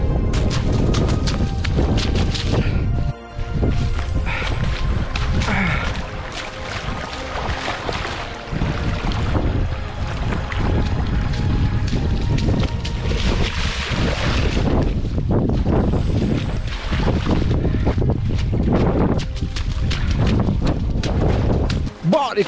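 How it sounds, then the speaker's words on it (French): Strong wind gusts of around 80 km/h roar and buffet the microphone during a muddy trail race through streams and puddles, loud and continuous with breathy rumbling and scattered talk underneath. "contre des rafales de vent à 80 km/h"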